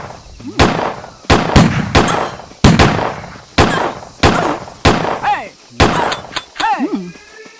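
Shotgun blasts from the video game The Church in the Darkness: about eight loud, sharp booms at a steady, uneven pace, with brief voice sounds near the end.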